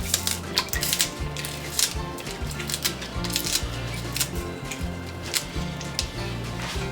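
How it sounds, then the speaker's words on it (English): Scallion being snipped into a pot for Jamaican rice and peas, a run of quick crisp cuts over steady low background music, close and moderately loud. "Follow up by your scallion. So you just want to cut these in the pot."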